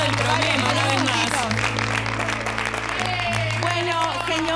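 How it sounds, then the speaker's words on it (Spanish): A studio audience at a television show claps loudly and steadily as a family departs, with talk and some musical tones blending in beneath the dense clapping throughout. "Aplauso."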